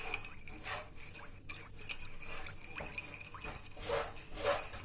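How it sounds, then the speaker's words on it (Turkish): A pot of milk and sugar is stirred for syrup for butter semolina halva with ice cream, a spoon scraping and clinking against the metal in repeated strokes with faint liquid sloshing, fairly close and moderate in level. "Sütümüzü şekerle buluşturuyoruz. Ve karıştırıyoruz."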